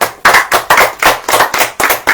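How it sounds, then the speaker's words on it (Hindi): A congregation at a church service claps in unison, loud sharp claps in a steady rhythm of about four per second, with no talking between them. "ताली बजाएं।"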